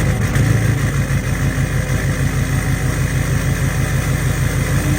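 A Duramax diesel engine with a 9-blade turbo, running in reduced engine power, sits at a loud, steady idle throughout with a rough, throbbing drone.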